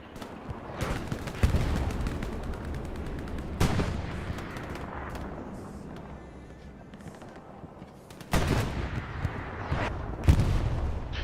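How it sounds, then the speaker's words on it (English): Gunfire in a World War II style multiplayer shooter match, with sharp loud bursts and single shots breaking over a quieter rumbling background, the heaviest volleys at the start, middle and late in the stretch. "guns going off right now"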